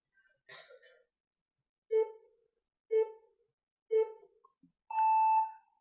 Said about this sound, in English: You will have a countdown timer every time. After it reaches 0, it will beep